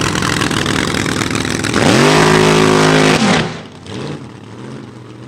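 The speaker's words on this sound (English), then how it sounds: "Wound up with a pair of supercharged dragsters." A pair of supercharged dragsters at a drag strip during a funny car event, a loud engine roar swelling into a rising high-revving pitch sweep that holds, then drops away abruptly into a fainter rumble.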